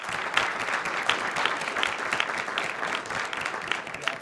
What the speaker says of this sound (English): I just want to give him another round of applause.